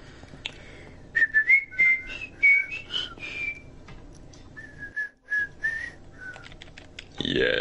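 A person whistles a short, wavering tune in several bursts of clear notes separated by pauses, close and fairly loud, with a burst of noise at the end.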